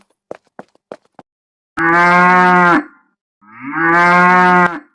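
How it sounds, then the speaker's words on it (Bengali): A cow lowing twice in a crowded cattle market in a cartoon, two long loud drawn-out moos following a few short sharp clicks. "হঠাৎ দূরে একটা পরিচিত শব্দ শুনতে পেল। ইউসুফ ঘুরে তাকিয়ে দেখলো এক কোণায় তার লাল গরুটা দাঁড়িয়ে আছে।"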